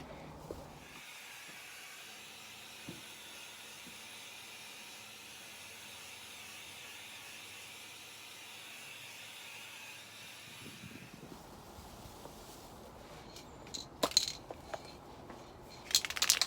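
Clear coat being sprayed onto the rusty tailgate of a Range Rover L322, a steady airy hiss from the spray gun running for about ten seconds, then stopping into quieter room noise with a few small clicks and knocks.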